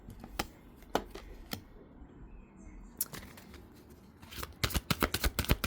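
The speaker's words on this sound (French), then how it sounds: "on va tirer donc 5 cartes et vous décliner les messages" Oracle cards shuffled and laid down during a tarot-style reading, a series of soft crisp slaps and riffles, sparse at first then a quick close burst at the end, with faint voice in the background.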